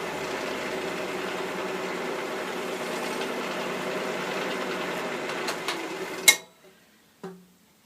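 A wood lathe spinning a turned bowl while a cloth dries its finish, a steady mechanical hum and whir that winds down and stops near the end, followed by a sharp click and a small knock.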